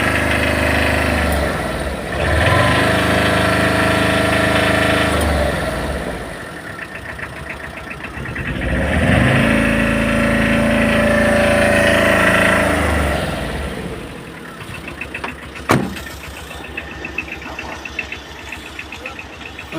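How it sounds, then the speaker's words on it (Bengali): A Tata EX2 vehicle engine idles close by, a loud continuous chugging rumble that swells and eases in slow waves, with a sharp click or knock standing out near the end. "স্টার্টে আছে গাড়ি এখন বর্তমানে।"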